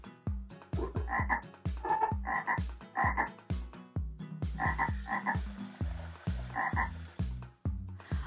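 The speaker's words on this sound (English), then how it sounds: "There are so many frogs here, and they all sound very hungry." A chorus of many cartoon frogs croaks in a dense, overlapping stream of short rhythmic bursts, loud and continuous throughout, with no talking.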